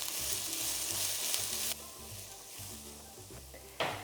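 Two chopped red onions sizzle in olive oil in a pan, a bright steady frying hiss with the crackle dropping partway through, then a sudden loud burst near the end.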